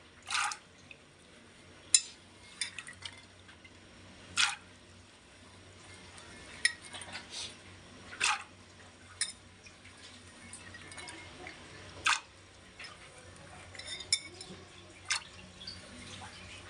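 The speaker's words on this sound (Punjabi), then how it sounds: "ਇਹਦੇ ਵਿੱਚ ਆਪਾਂ ਨੇ ਪਾਣੀ ਲੈ ਲਿਆ ਇਹਨਾਂ ਨੂੰ ਚਣਿਆਂ ਨੂੰ ਆਪਾਂ ਵਾਲ ਲੈਣੇ ਆ" Water drips and splashes into a pot of chickpeas in a home kitchen, as a series of sharp, separate drops and clinks spread over several seconds against a quiet background.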